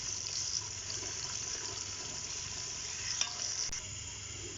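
Chopped onions sizzle softly in hot ghee in a pan while being stirred, a faint steady frying hiss with a couple of small clinks near the end and no talk.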